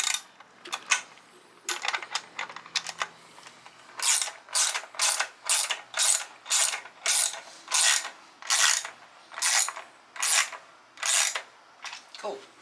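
A K&N air filter on a Screaming Eagle kit being hand-tightened, a steady series of rhythmic ratcheting clicks in short bursts, close and clear, with a few irregular clicks at the start.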